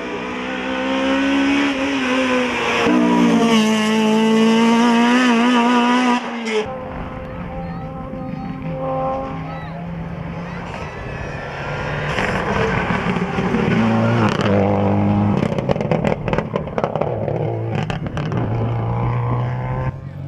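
Rally cars at the Rallye de la Famenne roar past, engines revving hard and shifting gears with rising and falling pitch, loud and close through most of the stretch, with scattered crowd or ambient noise.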